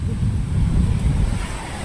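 Big ocean waves surge at sea around a small boat, a heavy low wash of water and wind buffeting the microphone, loud and continuous.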